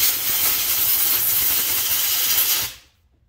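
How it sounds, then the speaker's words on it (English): An air compressor nozzle blasting hair out of an Andis clipper motor, a loud, continuous hiss close to the mic that cuts off sharply after under three seconds, with no talking. "I'm just gonna use the air compressor again real quick"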